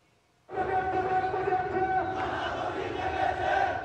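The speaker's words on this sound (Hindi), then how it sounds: "ढाका की सड़कों पर उमड़ी ये भीड़ बांग्लादेश में अल्पसंख्यकों विशेषकर हिंदुओं के लगातार उत्पीड़न के खिलाफ जनाक्रोश है" A large protest rally crowd fills a street in Dhaka, Bangladesh, a dense continuous roar of many voices and chanting that starts abruptly and stays loud throughout.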